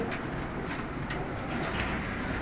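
Pigeons in a loft coo steadily in Faisalabad, a pen of fancy breeding birds with soft repeated calls over a constant low rumble of background noise; no voices.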